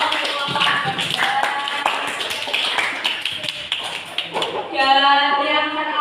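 Students in a classroom clap for a presenting group during a teacher-training session, sharp taps and claps mixed with voices, followed by brief musical tones near the end.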